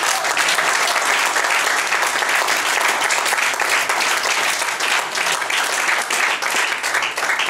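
A church congregation claps and cheers for Jesus during a prayer vigil. The applause is loud, dense and steady, filling the whole stretch without a break.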